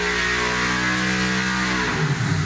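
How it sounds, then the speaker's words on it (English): A naturally aspirated engine with 10.5:1 compression revs hard on a dynamometer during a dyno pull, a steady loud drone held near and alone before the pitch shifts and falls away near the end. "here's a dyno pull"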